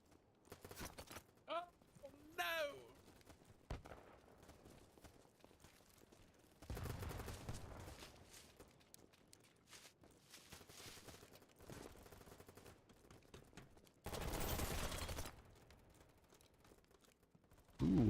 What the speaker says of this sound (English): Who was just shooting at me?